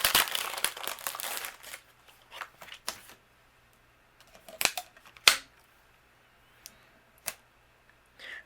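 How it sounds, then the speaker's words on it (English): Paper being die-cut with coordinating dies for a handmade card, heard as a series of sharp crinkles, clicks and snaps, a flurry at first and then scattered single clacks separated by quiet. "take the coordinating dies and we're going to cut out"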